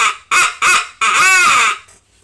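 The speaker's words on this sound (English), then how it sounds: "this crow call sounds a little something like this" Hand-blown crow call used by a turkey hunter: three short harsh caws followed by one longer drawn-out caw, loud and close, alone without talk.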